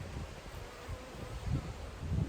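A soft, continuous buzz of honey bees, fairly faint and close, with a low hum that swells slightly now and then.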